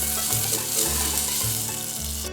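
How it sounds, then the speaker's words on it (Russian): Onion frying in melted butter in a pan gives a steady close sizzle and crackle, with a few low scraping stirs underneath. "Обжариваем сначала лук до золотистого прозрачного цвета"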